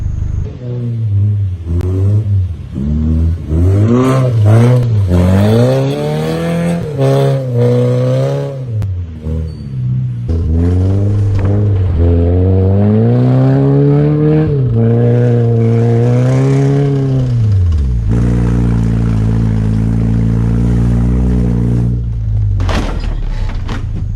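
A coupe with its front bumper removed revs hard, its engine note climbing and falling in repeated loud surges before settling into a steady, sustained roar near the end.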